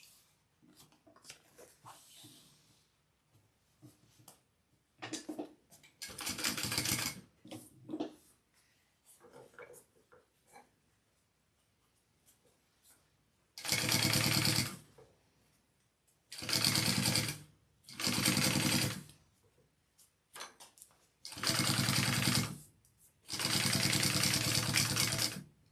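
Sewing machine top stitching a seam, running in six or seven loud bursts of a few seconds each, separated by short pauses and light handling noises.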